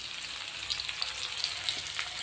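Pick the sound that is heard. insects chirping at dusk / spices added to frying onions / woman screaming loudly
spices added to frying onions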